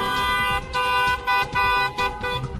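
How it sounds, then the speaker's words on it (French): A car horn in traffic, honked in several short toots and one longer blast with gaps between, loud and close, with steady street noise underneath. "En voiture, nous préférons largement utiliser le klaxon au clignotant."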